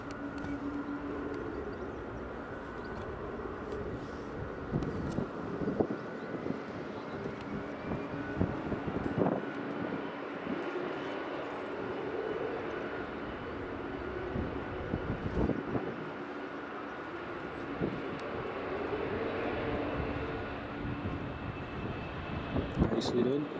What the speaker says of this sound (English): We've also got the Logan Air Embraer 145 just coming in now.